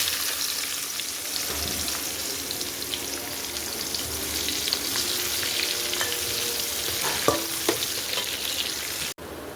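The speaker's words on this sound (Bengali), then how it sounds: "পেঁয়াজ ভাজা ভাজা হয়ে গেছে" Onions frying in hot oil with whole garam masala in a home kitchen pan, a loud continuous close sizzle with occasional stirring scrapes and no talk.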